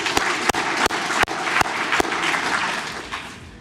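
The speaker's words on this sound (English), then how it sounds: "So huge round of applause for actually putting this all together." An audience at a retail talk gives a short burst of applause, dense clapping with a few sharp, sharp claps standing out before it tapers off.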